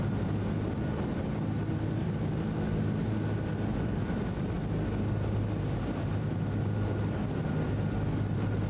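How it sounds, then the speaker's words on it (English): Steady, loud propeller-engine drone inside a DC-3 cockpit in Microsoft Flight Simulator as the landing gear lowers, a continuous low rumble with broadband wind-like roar that holds level throughout, with no voices. "I'm going to go ahead and lower the landing gear, which is going to really slow us down"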